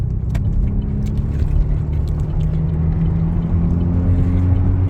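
Bus engine rumbling loud and steady from inside the cabin as it pulls onto a highway in Canada, a continuous low drone with faint rattles.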